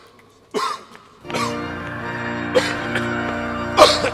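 Several sharp coughs, one early and more later, close and abrupt, over a quiet musical background.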